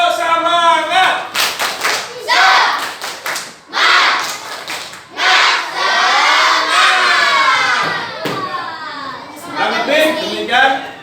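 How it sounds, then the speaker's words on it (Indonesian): A primary school class of children performs a rhythmic cheer clap, sharp patterned bursts of clapping mixed with excited group chanting and shouting, loud and close, with a teacher's voice between the rounds. "Tepuk semangat."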